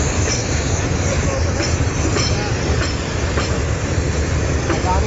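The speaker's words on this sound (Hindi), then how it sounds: "इलाहाबाद से गुजरती हुई अडानी की मालगाड़ी।" A freight train rolls past in Allahabad, a steady loud rumble of wagons with rhythmic wheel clatter and occasional squeal, continuous throughout with faint voices mixed in.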